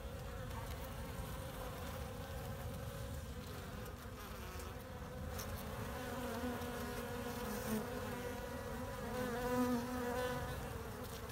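Honey bees buzzing densely at an open hive during queen rearing, a continuous close hum of many wings swelling and easing with individual bees passing near.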